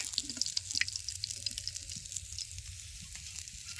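Kokila fish fries in a pan by a riverbank. A faint but steady sizzle carries scattered crackles and pops throughout.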